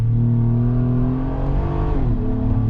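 A 2022 Acura MDX engine in sport mode drones loudly, its pitch holding steady then dropping as the revs fall, with a constant low rumble up close.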